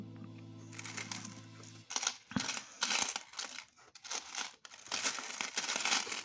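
A large batch of mixed world coins is sorted by hand. The coins clink and rattle in repeated bursts of sharp metallic jingles, close and fairly loud, with brief pauses between handfuls.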